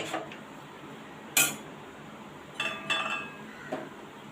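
A metal lid clanks onto a pot of potato filling cooking with ginger paste and salt for bread patties. A sharp clatter is followed by several lighter clinks and a final tap, with quiet gaps between.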